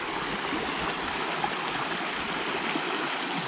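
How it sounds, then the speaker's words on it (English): Water from a branch runs through a wet pasture, a steady close babbling trickle with no voices. "That water comes out of that branch up there where I just fixed"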